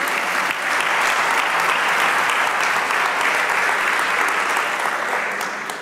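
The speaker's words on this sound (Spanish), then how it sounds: "Dele un aplauso." A church congregation breaks into sustained applause during a sermon, a dense, steady wash of many hands clapping that holds evenly for several seconds before easing off slightly at the end.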